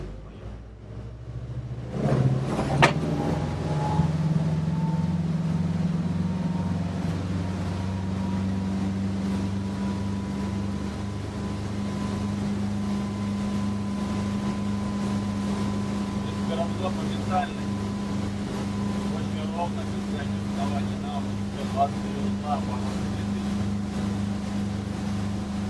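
Delphia Escape 1150 motor boat engine rising steadily in a strong low drone as the boat accelerates, with wind and water noise throughout and occasional voices.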